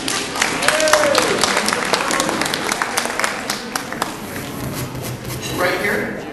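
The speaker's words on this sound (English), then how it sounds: "Let's give them a big round of applause." An audience at a motivational speaker's stage show claps in a loose, scattered patter that rises and falls, while a voice talks over it throughout.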